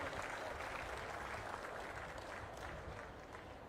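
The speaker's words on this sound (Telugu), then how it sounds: "గట్టిగా చప్పట్లు కొట్టి అభినందించండి" Sustained audience applause at a political speech by a chief minister, a dense, even wash of clapping from a crowd lasting several seconds and fading slightly toward the end.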